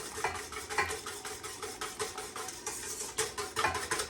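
Melted butter is mixed into cinnamon roll dough in a bowl, giving a rhythmic series of soft wet slaps and scrapes, close and quiet, with no talking.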